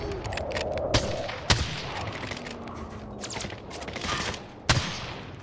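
R700 sniper rifle shots in a first-person shooter video game, three or four sharp, loud cracks spaced seconds apart over a busy background of distant gunfire and game noise.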